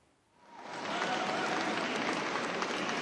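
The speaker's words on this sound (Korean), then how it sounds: "역에 나오자마자 깜짝 놀랄 함성이 터져 나왔습니다" A crowd at Busan station bursts into a welcoming roar of cheers and clapping, rising quickly from quiet to a dense, sustained wash of noise.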